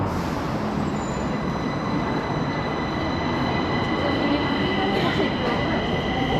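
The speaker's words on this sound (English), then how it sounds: "That's the train we just got off of, closing its doors." A Stockholm metro train at Gullmarsplan closes its doors and pulls away from the platform, a steady loud rumble with faint high wheel squeal across the whole stretch.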